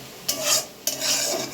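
Onions frying in a pan for Bengali palak egg curry: two bursts of sizzling and scraping as a spatula stirs them, each swelling and fading, close and moderately loud, with no talking.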